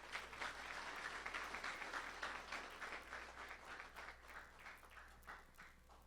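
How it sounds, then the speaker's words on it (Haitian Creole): Audience applause at a department ceremony honouring a doctor, a steady, dense wash of clapping from many hands that holds throughout and fades slightly toward the end. "féliciter et remercier Dr Boutros Ghali, dont je vous demande d'applaudir."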